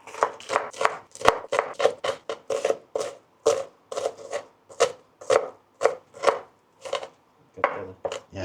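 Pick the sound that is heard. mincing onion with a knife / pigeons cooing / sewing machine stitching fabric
mincing onion with a knife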